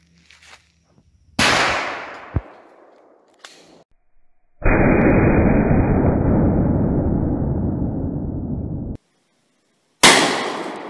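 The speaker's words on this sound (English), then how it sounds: "In this demonstration, we're using 12-gauge 7/8 ounce Lee Drive Key slugs" A 12-gauge shotgun fires 7/8 ounce slugs at a hard drive, producing loud, sharp blasts. One hits early, another at the end, with a long, dense roar of noise between them and no speech.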